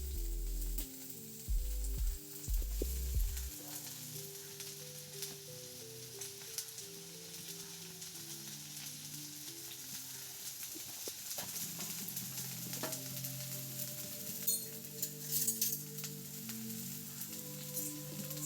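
Taro (colocasia) leaves are dropped into hot oil with popped mustard seeds, and a continuous close crackling sizzle follows. Faint low tones sit under it early on, and a few sharper spits pop out later.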